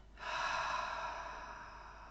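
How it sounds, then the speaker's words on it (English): A single slow breath, soft and close, swells in through the nose and trails off as a gentle airy exhale during a calming breathing exercise. "breathing in through your nose"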